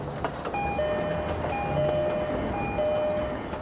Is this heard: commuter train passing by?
yes